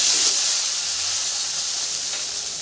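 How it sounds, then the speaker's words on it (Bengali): Tomato pieces fry in oil for a katla fish poppy seed curry, giving a loud, steady, close sizzling hiss that fades slightly and carries no talking. "এই তেলে আমি এইভাবে টমেটো চারটা একটা টমেটো কেটেছি একটু ভেজে নিচ্ছি"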